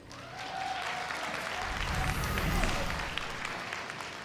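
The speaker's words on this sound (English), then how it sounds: "the polite round of applause" Steady applause from a large crowd at a StarCraft 2 tournament, a polite round of clapping that swells slightly in the middle and holds at moderate volume throughout.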